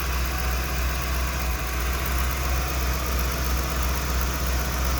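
A 1994 Ford E350 Club Wagon with a 351 V8 idling with a misfire, a loud close steady low rumble with constant vibration throughout.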